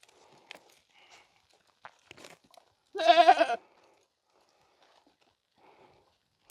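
A single close goat bleat rings out outdoors amid quiet rustling and faint footstep-like shuffles.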